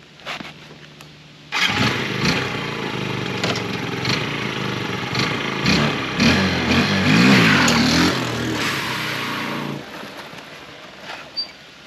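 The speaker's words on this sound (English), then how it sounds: "For the first test drive, I'm gonna completely redline it and dump the clutch." Yamaha 4-Zinger wheeler engine starting up, then revved hard to redline with the clutch dumped on its first test ride, a loud buzzing roar that rises and falls for several seconds before cutting off.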